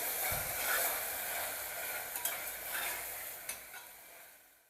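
Masala for chicken pulao is sautéed in a pan, with a steady close sizzle and a few light scraping stirs and ticks from the spatula, no talk.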